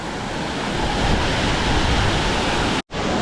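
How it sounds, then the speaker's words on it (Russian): A powerful waterfall about 15 metres high in the Cambodian jungle on Kulen Mountain roars as a dense, continuous wash of rushing water, loud and close, with a brief dropout near the end. "Так, конечно, сильный водопад."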